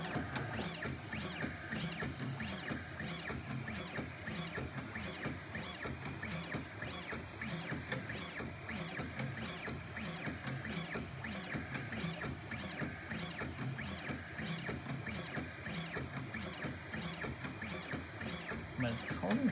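Prusa Bear 3D printer with dual Y stepper motors running at 500 mm/s, giving a steady, dense whirring and buzzing with rapid rhythmic motor pulses, close and continuous throughout.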